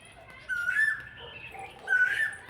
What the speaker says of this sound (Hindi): कोयल की कितनी प्यारी सी आवाज़ आ रही है।